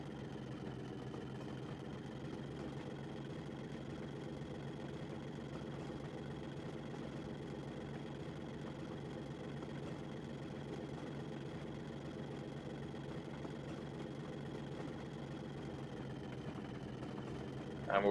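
A diesel locomotive engine in Train Simulator 2014, the IHH Port Road Green Diesel, opening up on the throttle, drones in a steady, close rumble that holds evenly throughout, with a brief bump at the very end.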